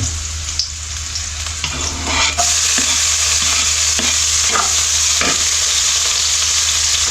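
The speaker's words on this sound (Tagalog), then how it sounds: "magisa na po tayo ng bawang at luya" Garlic and ginger sauté in a pan for adobong puso ng saging, a steady bright sizzle that runs throughout with intermittent scraping stirs of the utensil, close and loud, and nobody talks.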